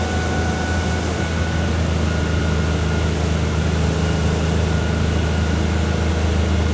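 A Sea Ray 320 motorboat on a lake, fully loaded, drones with a steady low engine hum throttling back toward about 3100 rpm, constant and loud under broadband water and wind noise, no voices.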